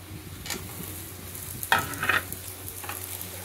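Eggplant pieces frying in spiced oil with mixed masala, giving a steady low sizzle with a few louder crackling bursts partway through as the pieces are stirred.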